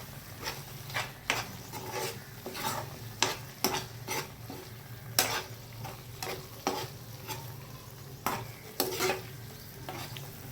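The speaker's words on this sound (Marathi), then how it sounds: "हे सोयाबीन आता सगळे आपण यात टाकून देऊ आणि ते फ्राय करूया." Soybeans stir-fry in a pan for a spicy curry, a soft sizzle under repeated scraping strokes of a spoon against the pan at an irregular rhythm, close and fairly quiet.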